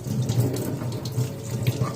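Tap water runs steadily into a sink while crab is washed, a close, continuous splashing rush with small irregular spatters and no talk.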